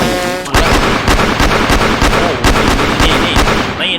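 Rapid gunfire from a gun in the Roblox video game, a dense, loud stream of sharp shots repeating steadily for several seconds after a brief quiet opening.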